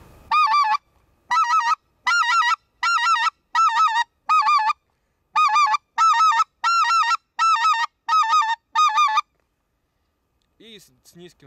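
A handheld goose call imitates the white-fronted goose, sounding about a dozen sharp, evenly spaced honking bursts in close succession, each a quick multi-note click, followed by a quiet voice at the end.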